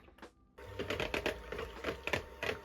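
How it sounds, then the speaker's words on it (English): Heavy cream being whisked in a bowl: after a brief quiet start, a fast, steady run of close, rhythmic clicking whisk strokes continues alone. "I just whisked some heavy cream"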